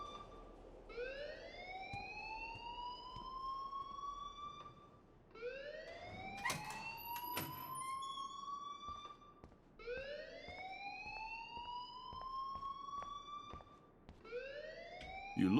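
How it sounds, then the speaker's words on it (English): A school fire alarm in Life Is Strange sounds as a repeated rising electronic whoop. It cycles about every four to five seconds and is heard four times, with brief clattering noises in the second cycle. "please turn off that alarm since that's your job"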